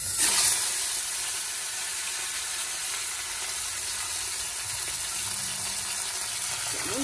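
Hot oil sizzles and crackles loudly in a pan as something is dropped in for frying, a bright hiss that settles into a steady continuous fizz.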